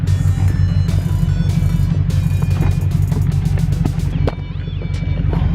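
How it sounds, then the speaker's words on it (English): A Scion FR-S on a test drive just after a coilover install, its engine droning loud and steady with road noise, easing off slightly near the end. "now we're gonna go for a test drive real quick"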